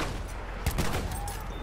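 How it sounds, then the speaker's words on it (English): A sawed-off shotgun fired in the World War I shooter game Battlefield 1: a single heavy blast over steady background battle noise, with no talking. "Sawed-off shotgun kill."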